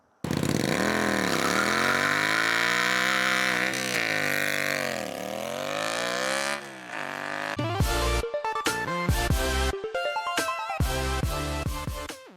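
A modified Hysoung GT 250 motorcycle runs close by, its engine revving up and down in rising and falling sweeps, then breaking into sharp, choppy bursts of throttle blips through the exhaust.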